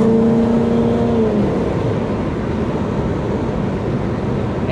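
Toyota 1UZ V8 swapped with an A341LE automatic into a 1965 Ford Zephyr on a Haltech ECU, heard as a loud, steady engine drone that rises briefly in pitch early on, then holds an even roar.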